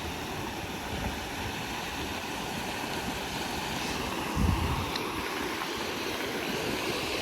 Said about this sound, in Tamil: இதுக்குள்ளே தாங்க தண்ணி போகும்.